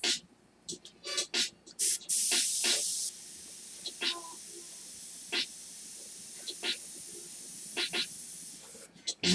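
Airbrush spraying paint on a portrait of football player Saquon Barkley: short, soft hissing puffs with one longer sustained spray burst, close and fairly quiet amid a quiet room.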